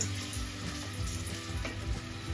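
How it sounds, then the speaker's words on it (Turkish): Garlic and coriander fry in a pan with a steady, close crackling sizzle that holds evenly throughout the short stretch, no voices. "Şöyle bir kaşık keşniş ekliyorum sarımsakla birlikte harika bir kokusu çıkıyor"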